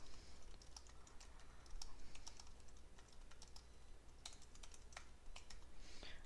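Computer keyboard typing as code is written, a steady run of light, close key clicks with brief pauses, alone without any talking.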